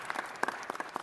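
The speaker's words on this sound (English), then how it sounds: "That's right, it's worth applause." A handful of scattered claps at a city council meeting, a few sharp individual hand claps spaced unevenly rather than a full ovation.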